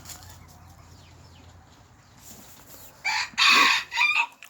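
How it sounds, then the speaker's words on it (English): Chickens cluck softly in a coop in the morning, and then a rooster crows loudly and nearby in a few bursts toward the end. "I'm in my chicken coop, looking at my chickens in the morning."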